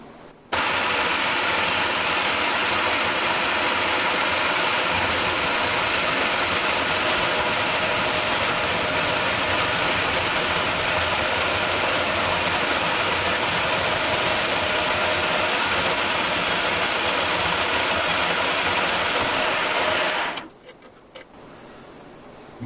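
A machine bores out a hole in a 1962 Harley-Davidson XLCH part, a loud continuous grinding, whirring cut that runs steadily for about twenty seconds, then stops abruptly and leaves a quieter hum.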